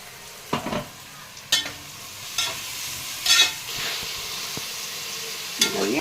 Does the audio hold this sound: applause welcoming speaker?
no